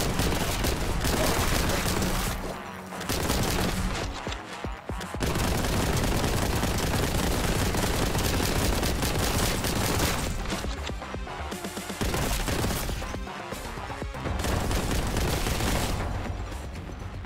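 Sustained, dense bolt gun fire in Warhammer 40,000: Boltgun, loud and continuous with brief gaps, layered with booming impacts and explosions throughout.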